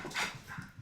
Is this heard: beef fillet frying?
no